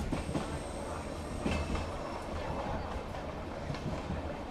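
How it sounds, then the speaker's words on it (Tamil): A Madurai–Guruvayur LHB express train rolls steadily into Sankarankovil station, with a continuous rumble of wheels on rails and faint clatter under a dense, even wash of noise. "நம்ம ட்ரெயின் வந்து பார்த்தீங்கன்னா சங்கரன்கோவில் ஸ்டேஷன் அரைவல் ஆகுது"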